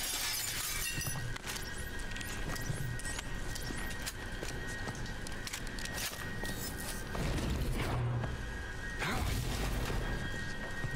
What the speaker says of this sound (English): Am I supposed to just break the glass?